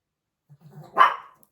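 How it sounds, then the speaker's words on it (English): A dog gives a single sharp bark after a few low grumbling sounds, close by and indoors, reacting to the video game Red Dead Redemption 2 playing in the room. "She's barking at Red Dead Redemption."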